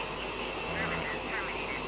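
A DC Designs F-15 jet roaring at full throttle in Microsoft Flight Simulator, a steady dense engine rumble and whine with a voice talking over it.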